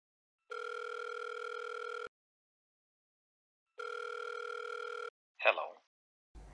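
Telephone ringback tone on an outgoing call, two long even rings separated by a pause, thin and moderately quiet, followed by a brief click-like sound.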